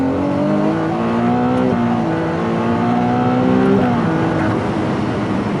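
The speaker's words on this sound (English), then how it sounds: "the car will dump all it has to give you maximum power, maximum acceleration" A Ferrari 296 GTS with a V6 accelerates hard in race mode, its engine note climbing loud and close through several rising revs, each broken by a quick gear change.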